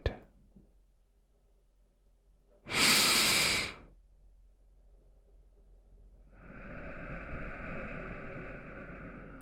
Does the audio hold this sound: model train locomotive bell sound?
no